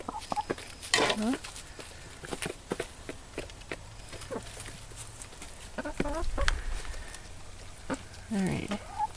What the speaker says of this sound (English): my husband named the hen Bob